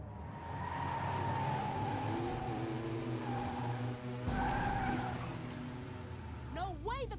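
Police cars in the racing game Need for Speed Heat skid with drawn-out tire squeals over a constant engine drone, with sharp rising tones near the end and a voice briefly present.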